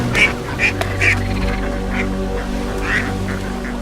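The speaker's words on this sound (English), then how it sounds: "We watch with curiosity the introduction of wild ducks to the reservoir" Wild ducks quack at a mountain reservoir, a few short calls spaced across a steady outdoor background hum with no talking.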